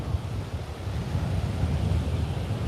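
Strong wind buffets the microphone on a Melbourne beach, a loud, gusty low rumble that swells and dips continuously with no talk.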